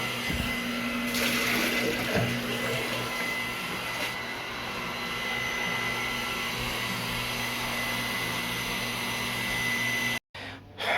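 A vacuum sucks up water leaking from busted pipes at a beach house build in the Philippines. The loud, steady whine and gurgling roar runs close and continuous before cutting off abruptly near the end.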